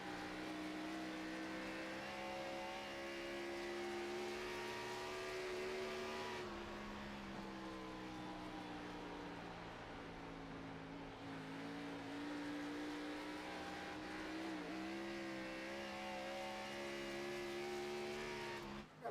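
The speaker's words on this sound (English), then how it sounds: "You can hear the RPMs jumping on that 87 machine as he navigates the bumps." A stock race car engine in the iRacing sim hums at sustained high revs as the RPM jumps and wavers over track bumps, a continuous droning whine with pitch rising and dipping throughout.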